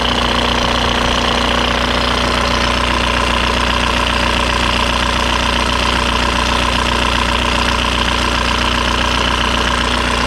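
A Volkswagen 1.9 TDI ALH diesel engine idles steadily with an even, clattering rhythm and a constant mechanical hum, close and continuous throughout.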